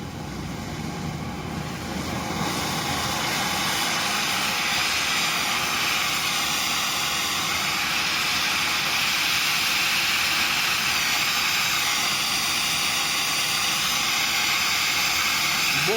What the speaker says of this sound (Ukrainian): це у нас горить чистий пропан. Тепер додаємо повітря.